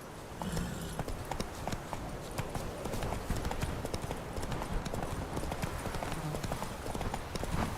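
Horse hooves clip-clop at a steady trotting rhythm in The Witcher 3, loud and close, with a brief snort or whinny amid the dense hoofbeats.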